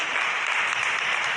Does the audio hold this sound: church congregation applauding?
yes